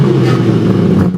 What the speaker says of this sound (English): It now makes 540 horsepower, and it has a titanium exhaust.